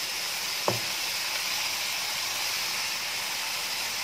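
Chicken frying in a pan on a high flame, a steady close sizzle and hiss throughout with a single brief knock early on, no voices.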